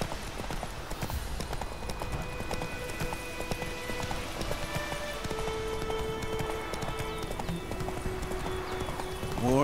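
Roach, the horse in The Witcher 3, gallops with steady, rapid hoofbeats that run unbroken for the whole stretch, over a low game ambience with sustained musical tones.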